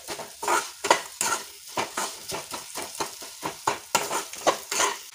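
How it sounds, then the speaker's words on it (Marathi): A spoon scrapes and stirs rhythmically around a pot of wheat kheer with jaggery, about two or three strokes per second, close and steady. "आता गूळ एकजीव करून घेऊया यात।"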